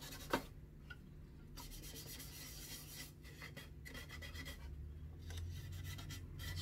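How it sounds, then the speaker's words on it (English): Very fine sanding of fresh varnish on an 1890 W.E. Hill & Sons violin during restoration, a faint, steady rasping rub that comes in alternating strokes with brief pauses, close up and quiet. "very fine sanding here."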